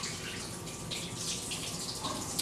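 Tap water runs steadily as a continuous broadband hiss, fairly close and moderately quiet, with no speech over it.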